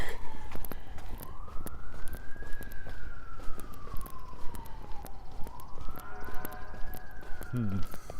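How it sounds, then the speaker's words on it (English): A fire engine siren wails in the distance during a chilly morning walk around a lake in Regina, its rising and falling tone sweeping slowly twice over outdoor street noise, with a brief nearby sound near the end. "Fire engine going somewhere in a hurry in the distance."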